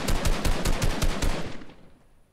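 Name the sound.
gunfire in Fortnite video game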